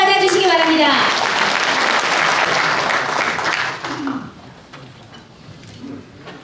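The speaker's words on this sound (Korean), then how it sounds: "큰 박수로" Loud applause from a hall full of delegates at a Democratic Party convention in Cheonan, greeting a leadership candidate; dense clapping with cheering voices that gradually fades toward the end.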